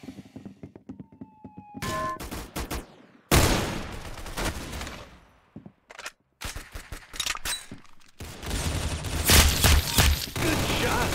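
Rapid gunfire bursts and single shots from the Roblox shooter game Arsenal, loud and close, coming in several separated volleys with brief gaps between them.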